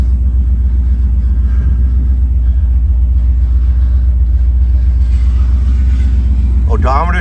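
A 1963 Ford Galaxie 500 XL convertible engine idles with a steady, deep, loud rumble close by, unchanging throughout, with a brief mechanical sound near the end.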